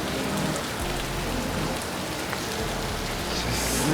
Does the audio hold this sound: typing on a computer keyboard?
no